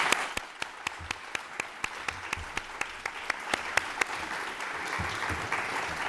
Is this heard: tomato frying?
no